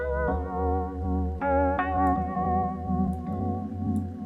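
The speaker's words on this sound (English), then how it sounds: "And this is kind of like a tube distortion kind of effect." Sustained chords from an instrument through a tube-distortion-style effect, with a warm, gritty, saturated tone, changing a few times with a slightly overdriven edge.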